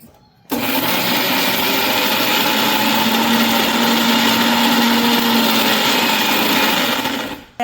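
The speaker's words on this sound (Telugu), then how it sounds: "ఇది నేను మిక్సీ పట్టేస్తున్నాను." A mixer grinder whirs steadily and loudly for about seven seconds as it blends brinjal chutney ingredients with salt and tamarind, starting abruptly and cutting off at the end, with no voices over it.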